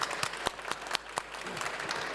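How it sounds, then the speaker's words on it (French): A brief burst of audience applause at a French-language tech conference session, with distinct sharp claps ringing out over a softer crowd clatter, close and moderately loud. "Ouais, déjà, on peut applaudir."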